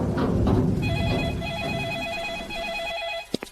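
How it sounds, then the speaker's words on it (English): Weather bureau hotline telephone ringing with a steady electronic trill over a busy indoor background that fades, ending in a couple of sharp clicks. "Seems like your weather bureau's hotline. It was ringing just now."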